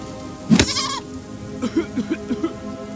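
Goat bleats in a video game: one loud drawn-out bleat, then a quick run of five or six short, softer bleats, with no talk over them.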